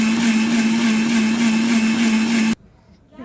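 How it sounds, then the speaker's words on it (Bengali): An electric blender whirring loudly and steadily as it blends mango with milk, a constant motor drone that cuts off abruptly, followed by faint quiet handling. "গাইস এটাকে হচ্ছে আমি এখন ব্লেন্ডার ব্লেন্ড করে নিব।"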